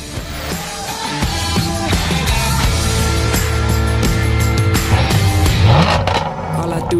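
A Volkswagen Up GTI small hot hatch driving toward Nice, its engine droning and revving steadily beneath loud music that plays throughout.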